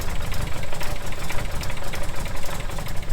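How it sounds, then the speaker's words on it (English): A Ford Ranger engine cold-starts and settles into a low, rough idle, with extra knocking noises. The steady, dense mechanical rumble is loud and close throughout, with no talking. "That's some cold start action right there, and her idle's a little low, and there's a couple extra noises"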